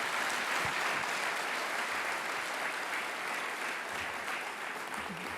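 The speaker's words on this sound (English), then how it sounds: "Maybe a round of applause for Jordan, a round of applause for the New South Wales Treasurer" Steady audience applause at a summit keynote for a state treasurer in Sydney, many hands clapping together in a dense, even roar that holds throughout and eases only slightly toward the end.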